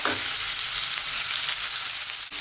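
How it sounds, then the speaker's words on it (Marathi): Onions fry to a reddish brown in a pan, loud and close, a hissing sizzle broken by stirring scrapes and a short clank near the end. "जसं कांदा लाल भाजलाय ना तसं छान भाजून द्याल"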